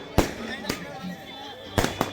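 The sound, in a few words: fireworks exploding at church festival, Kodaikanal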